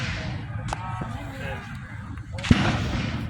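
Musket fire at a Civil War battle reenactment, a single sharp report cracking out over an open field amid distant, muffled pops, with people talking nearby.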